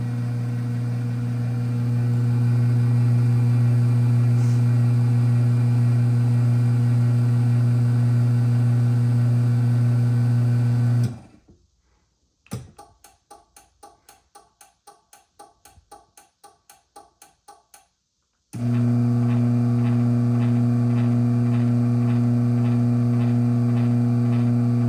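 A 2006 Chamberlain AccessMaster M385 AC chain drive garage door opener runs with a loud steady motor hum, stops for a stretch of rapid clicking relay ticks, then its hum starts again, close and alone.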